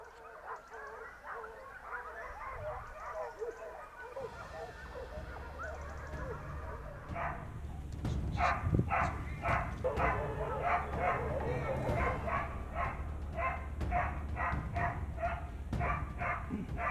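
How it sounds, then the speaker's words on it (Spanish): A large pack of hunting dogs barks and yelps repeatedly while chasing a wild boar through the countryside, first mixed and distant, then louder and rapid, with someone talking over it. "Esta carrera lleva muchos perros."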